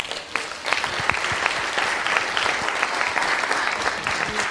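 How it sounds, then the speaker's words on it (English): Wedding guests break into loud, continuous applause after a toast, a close, busy patter of many hands clapping with a few sharper claps standing out, and no voices. "Nathan, can we have another round of applause?"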